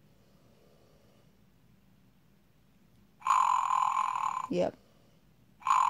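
An electronic toy panda gives out its sleeping sound when cradled: a loud buzzy electronic tone lasting about a second, cut by a brief rustle, then starting again at the end, over quiet background hum.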